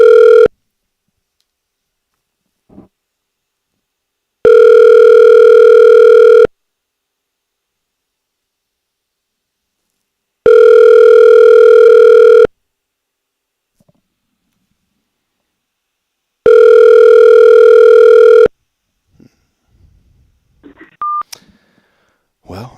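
A telephone ringback tone rings three times during a live call-in to a phone and text line, each ring about two seconds long with long silent gaps between. The call goes unanswered, and a few faint clicks follow at the end.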